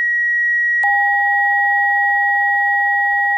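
Steady electronic test tones from an Icom IC-7300 radio: one pure high tone holds alone, then a second lower tone joins abruptly and both sound together, constant and clean with no talking.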